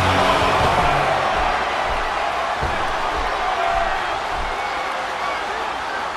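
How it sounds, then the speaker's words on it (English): Steady crowd roar and cheering from a 40-man Royal Rumble match in WWE '13 on Xbox 360, a continuous loud wash of arena noise holding through the whole stretch with commentary speech over it. "Would you listen to this crowd show their appreciation for these amazing competitors?"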